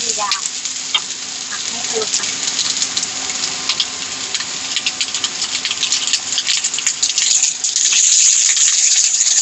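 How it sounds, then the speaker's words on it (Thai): Running tap water splashes steadily into a kitchen sink while white garlic chives are rinsed, a continuous close hiss with faint clinks, no talking. "กุยช่ายขาว นี่คือเราซื้อมาเราต้องล้างก่อนเนาะ ล้างก่อน"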